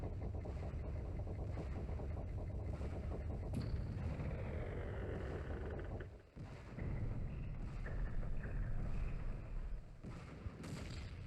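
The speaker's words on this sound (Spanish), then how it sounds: "Mira, qué bonito los fuegos artificiales." Fireworks in the video game The Legend of Zelda: Majora's Mask 3D, a loud, dense and continuous barrage of booming blasts and crackling that runs the whole time with a brief dip partway through.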